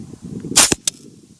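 Rifle shot at a varmint target several hundred yards out: one sharp, loud crack, followed a moment later by a faint second report, over quiet outdoor background.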